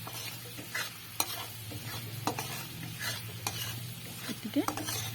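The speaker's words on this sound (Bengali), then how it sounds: "আবারও ভালোভাবে নেড়ে নিচ্ছি।" Caramel for pudding stirred in a pan over a low gas flame, soft scraping and sizzling throughout with occasional sharp utensil taps against the pan, close and steady, no talking.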